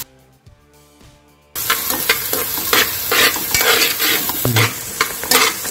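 Carrots, beans and capsicum being stir-fried in a pan: a quiet scrape or two, then a loud steady sizzle with repeated stirring strokes close by, no talk.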